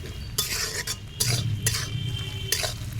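Chicken and onions fry in a pan over a low wood fire, with scraping stirring strokes in irregular bursts over a soft continuous sizzle, close and fairly loud, no voices.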